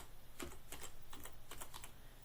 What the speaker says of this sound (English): so I type that particular command at the prompt